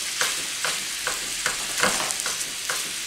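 Ground beef sizzles steadily in a hot pan while a utensil scrapes, stirs and chops it, making soft rhythmic scraping strokes over the constant frying hiss.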